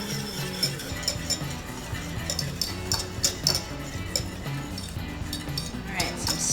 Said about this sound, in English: Make sure you just keep moving, keep whisking.